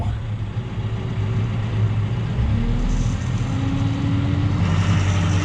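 Heavy machine engine revving up to quarter throttle with a steady low rumble, a rising tone building as the fast hydraulics lift, continuous and close with no talk.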